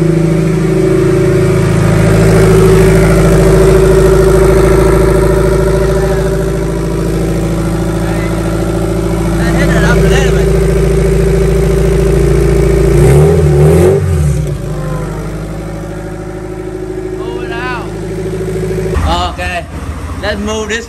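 A Lexus IS300 with a 2JZ turbo engine cold starts and settles into a loud, steady idle with brief revs, heard close, while people talk and call out over the engine.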